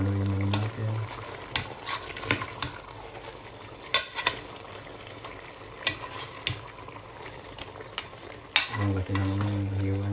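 Pork adobo with pork cubes stirred in a pan: scraping utensil clicks and scattered knocks over a steady frying sizzle, with a louder bubbling burst of sizzle toward the end.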